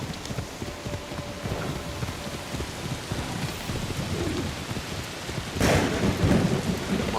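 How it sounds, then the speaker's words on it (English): A heavy thunderstorm with driving rain fills the scene in the video game Assassin's Creed Shadows. The downpour drums steadily and loudly, and a sharp, louder thunder crack bursts in late on. No one speaks. "Crazy ass storm apparently just came out of nowhere."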